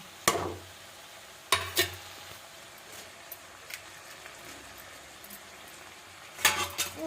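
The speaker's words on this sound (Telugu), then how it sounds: "ఇప్పుడు ఈ మెంతం కూర వేసి కలుపుదాం" Fenugreek leaves being stirred into a hot pan of frying masala, with a soft background sizzle broken by three sharp spoon scrapes and clinks against the pan, spread across the stretch with no voices.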